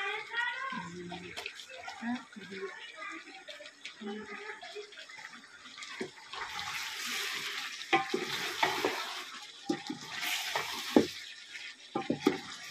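Chicken pulao fries in a pot with spices and masala powder, giving a hissing sizzle with stirring scrapes and clatter that swells in bursts. Talking comes and goes over the cooking.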